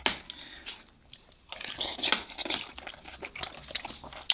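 Close, loud chewing and crunching of Iraqi okra stew with lamb ribs, with wet bites and crunchy mouth sounds running through the whole stretch and no talk.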